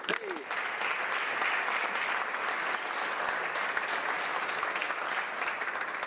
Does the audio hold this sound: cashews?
no